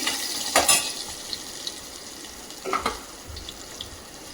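Asafoetida dropped into hot oil with curry leaves for a green gram curry sizzles softly, with a couple of brief louder bursts of crackle and spoon scraping over a quiet background hiss.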